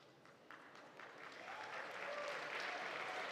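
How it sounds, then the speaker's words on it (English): An audience of eighth graders clapping at a school Oscars ceremony, applause starting modestly and swelling into steady, full clapping from a crowd at moderate distance. "I didn't know they were going to clap"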